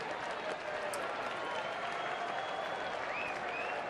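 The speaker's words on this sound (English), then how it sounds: "A sarcastic cheer from the home crowd here in Arizona." A home baseball crowd in Arizona lets out a sarcastic cheer with scattered applause, a steady, moderately distant roar that holds evenly for several seconds.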